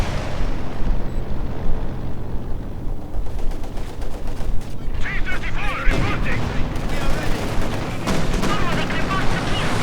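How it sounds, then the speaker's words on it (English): Strafing run explosions and gunfire in Company of Heroes 2, a dense, continuous roar of blasts and shots with a rumbling low end and no clear breaks. "we do see here the Sturmgeschütz strafing run moves in"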